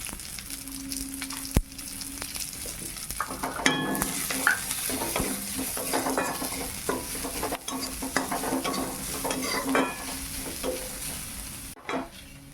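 Chopped onion fries in a pan of hot oil with garlic and ginger, a continuous close sizzle broken by regular scraping stirs and occasional clacks of the spatula, no voices.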